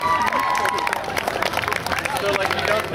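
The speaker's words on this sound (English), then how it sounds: "can we get a round of applause for Josh" A street-fair crowd at the Kirkland Street Fair claps and cheers for a substitute drummer who played a box, the applause mixed with loud chatter and voices close by.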